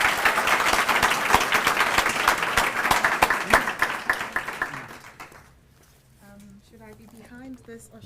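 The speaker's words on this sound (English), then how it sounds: "Please let's show her some love and give her a massive round of applause." Conference audience applauding a youth speaker, dense clapping for about five seconds before fading into quieter room noise and people talking.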